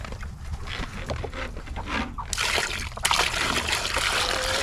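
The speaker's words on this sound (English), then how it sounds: "You want to go ahead and pour it in their water pan?" Water pours into an animals' water pan, a soft trickle that grows into a fuller, louder splashing stream partway through, close by and outdoors.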